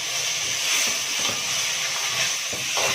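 Grated tomatoes poured into a pan of fried, softened onions, raising a steady loud sizzle and hiss that holds through, with faint clatter of stirring underneath.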